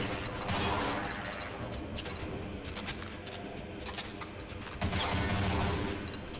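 Dual-wielded akimbo guns firing in Brutal Half-Life, a dense continuous barrage of rapid shots with a fresh loud burst near the end, close and heavy with no talk over it.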